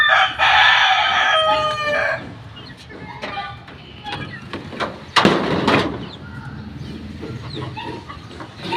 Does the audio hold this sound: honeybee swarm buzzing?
no